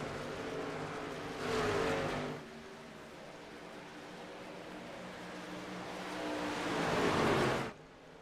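Engine roar from a pack of race trucks accelerating at a green-flag restart at Nashville Superspeedway in iRacing, a steady drone that swells twice into loud surges, with no talk over it.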